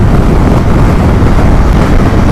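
Strong wind buffets the microphone of a rider on a KTM Duke 390 motorcycle on a motorway. The roar is loud, constant and blustery, masking everything else for the whole stretch.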